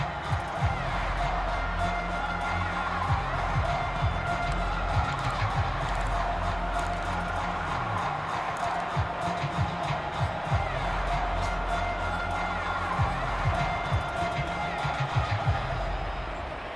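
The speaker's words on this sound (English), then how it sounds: "that might be exactly what they needed to wake up this home crowd" A home crowd in a Madden NFL 22 football game roars steadily in a dense, continuous wash of cheering that swells slightly toward the end.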